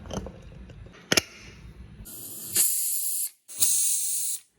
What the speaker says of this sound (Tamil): குக்கர் மூடி 2 சத்தம் பண்ணுங்கோ.